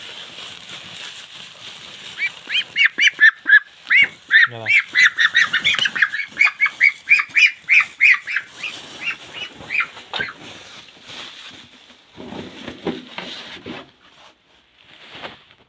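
Several ducks quack and honk loudly in a rapid run of calls, fading to scattered quieter quacks and some nearby shuffling.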